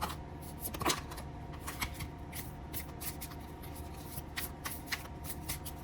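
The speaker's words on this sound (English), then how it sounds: "just give it a little shuffle there" A Changeling Tarot deck is shuffled by hand, quiet papery riffles and soft card slaps ticking along in an irregular rhythm, close and faint with no talk.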